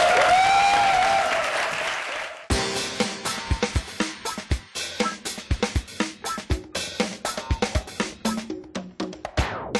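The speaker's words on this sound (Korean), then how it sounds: "큰 박수로 환영해 주세요." Applause from a live audience welcoming a guest onto a startup-pitch stage show. A voice comes first, then loud, distinct claps break out midway and continue in a quick, uneven patter.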